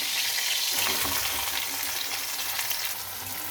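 Onions go into hot oil already holding panch phoron and green chillies for a Bengali fish chorchori, giving a loud, steady close-up sizzle with no talking.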